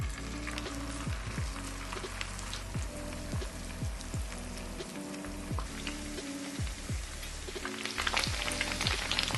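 Tofu fries in vegetable oil in a small pan, giving a steady, dense sizzle and crackle close up that runs unbroken throughout.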